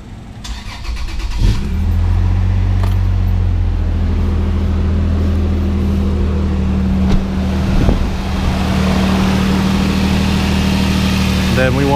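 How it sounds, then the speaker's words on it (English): A Toyota 4Runner with the 1GR-FE V6 cranks briefly, catches and settles into a loud, steady idle close by, holding a smooth, even hum for the rest of the time with a slight rev bump midway. "I'm gonna go ahead and start the engine."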